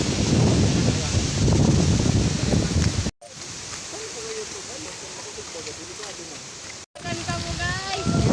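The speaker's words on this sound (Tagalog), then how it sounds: "Umuulan na guys." Rain hisses steadily in a broad wash, interrupted by two abrupt cuts, while people talk over it.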